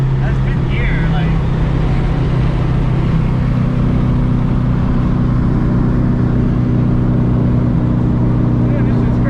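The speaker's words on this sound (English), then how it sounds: "God damn, when that turbo kicks in, bro." A turbocharged 400+ horsepower SR20 engine in a Nissan 240SX S14 pulls hard in 5th gear, a loud, continuous engine drone heard from inside the car with heavy wind noise and possible voices.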